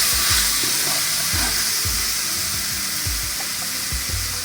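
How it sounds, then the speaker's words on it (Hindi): Masala being fried in a pan for chicken macaroni gives a steady, loud sizzle with faint stirring scrapes throughout, and no voices. "तो इसके साथ ही 2-3 मिनट बस भून लेंगे।"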